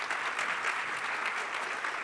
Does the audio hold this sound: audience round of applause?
yes